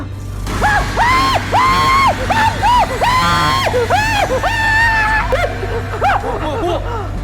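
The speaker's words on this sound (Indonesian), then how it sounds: "Ibu apaan sih teriak-teriak berisik tau?" A woman screams loudly in repeated high, strained bursts over a steady low hum, with a few shorter cries near the end.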